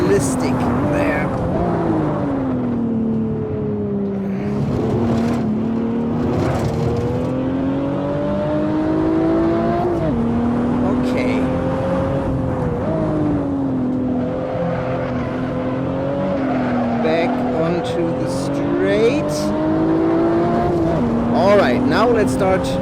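A BMW 1 M Coupe engine in a racing video game hums at partial throttle in third gear, a steady mid-pitched drone that rises and falls gently with throttle changes, loud and continuous.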